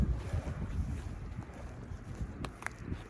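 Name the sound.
wind blowing outdoors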